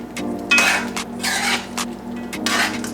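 Curry chicken foot and gravy being stirred in a pot, with a utensil scraping and clinking against the metal in several bursts over a steady low hum.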